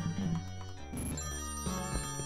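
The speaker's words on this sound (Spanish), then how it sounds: "que me está volviendo loco el teléfono" Telephone ringing in the video game The Textorcist, a repeated electronic ringtone with bright bell-like tones, heard in short patterned bursts over a steady game music bed, with no voices.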